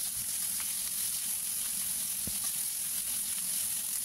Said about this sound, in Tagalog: Igisa natin siya mga guys hanggang sa kulay brown din siya.